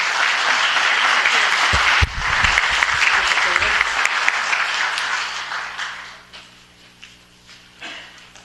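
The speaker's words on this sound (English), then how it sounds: "Give them a round of applause." An audience at a Santa Ana city council meeting gives a loud round of applause that carries on for about six seconds before fading into scattered claps and a quiet room.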